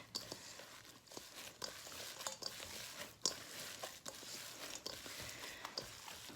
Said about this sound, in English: And just get in with your hands and mix.